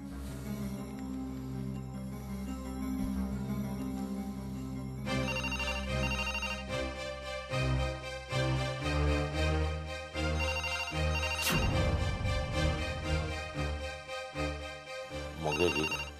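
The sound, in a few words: phone ringing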